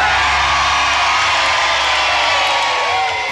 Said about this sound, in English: They quickly put out the fire to the cheer of the crowd that had gathered.